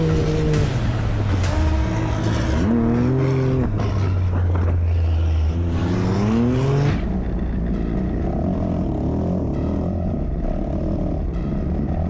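A Dakar rally car engine roars and revs hard at full throttle, pitch sweeping up and down through gear changes, then settles into a steady high drone.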